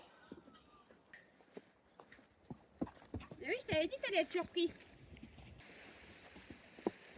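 A horse galloping on a lunge, rhythmic hoof clip-clops in a steady three-beat pattern, moderately close, with a person speaking over it partway through.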